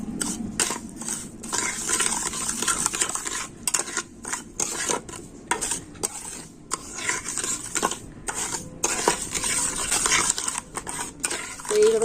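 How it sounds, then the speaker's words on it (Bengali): Raw egg and sugar are stirred together in a pan, the utensil scraping in a steady, rapid rhythm of close strokes with no talking. "আর এবার আমি ডিম আর চিনিটা কিন্তু খুব ভালো করে মিশিয়ে নেবো"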